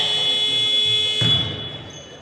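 At a women's basketball game, a steady electronic buzzer tone sounds for about a second and a half, then cuts off amid arena noise.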